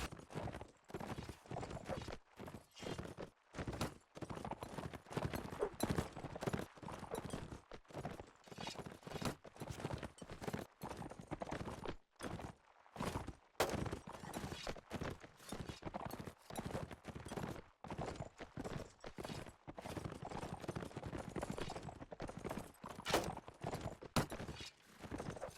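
Horse hooves clip-clop in rapid, rhythmic clusters throughout a video game match, close and steady, with short gaps between runs of hoofbeats and faint distant gunfire-like cracks.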